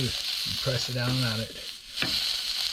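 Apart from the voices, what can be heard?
fish sausage sizzling in a pan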